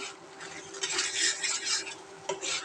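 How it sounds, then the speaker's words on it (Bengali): Spice paste for a fish curry with home-pond snakehead being stirred in a metal pan, with steady scraping and clinking of the spoon against the pan and a soft sizzle underneath, close and fairly loud, with no talk. "সব মশলা সুন্দরভাবে কষিয়ে নেব আমরা"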